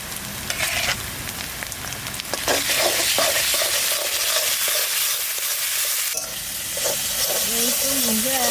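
Ginger and garlic frying with onions in mustard oil, a loud steady sizzle with repeated stirring scrapes and a faint voice murmuring near the end.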